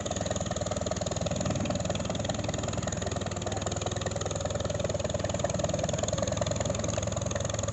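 An old Rumley Oil Pull tractor engine idling at a gas and steam engine show, a steady, rhythmic low chugging that holds an even pace throughout at moderate distance.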